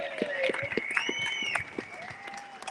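Crowd applause at an outdoor protest against 15-minute cities in Oxford, scattered claps and cheers with voices calling out through the crowd, fairly close and lively.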